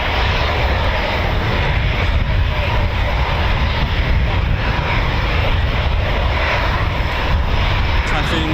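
Eurofighter Typhoon FGR4 jet engines running up at RAF Coningsby, a steady loud broadband roar and whine that holds without a break, with distant voices underneath.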